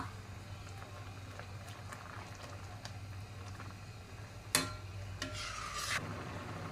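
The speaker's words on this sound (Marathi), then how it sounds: "आता व्यवस्थित मिक्स करून घ्या" Grated carrot halwa with sugar and boiling milk is stirred in a pot, giving quiet, steady scraping, with two sharper scrapes of the spoon near the end.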